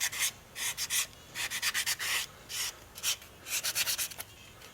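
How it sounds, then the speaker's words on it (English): A sanding piece rubs along the edge of a white cowhide leather case in short, bursty strokes, a dry scratchy rasp repeated in quick clusters, close and fairly quiet. "I take my sanding piece like this, and I just sand the edge together so it gives the same basic shape."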